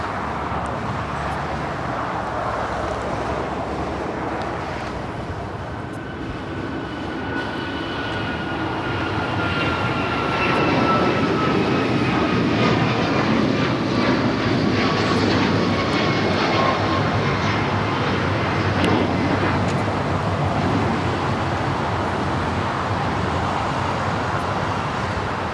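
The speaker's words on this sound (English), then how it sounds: "We got that Alaska 737 MAX 9 heading to Newark, flight 286. Now rolling down at 25 right." An Alaska Airlines Boeing 737 MAX 9 taking off from runway 25 Right at LAX, its jet engines building from a distant rumble into a loud, sustained roar with whining tones sweeping across it as the aircraft rolls past.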